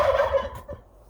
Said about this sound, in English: Those daggone turkeys over there.